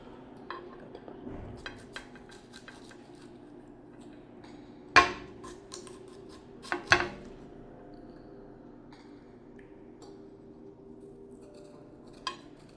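A large pear being cut in half at a table: quiet knife and plate sounds with a few sharp clinks of the blade hitting the dish, scattered over a low background.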